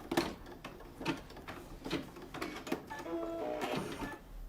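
A multi-needle home embroidery machine stitching a zippered in-the-hoop bag, giving a fast rhythmic mechanical clatter with irregular bursts, fairly faint and heard alone.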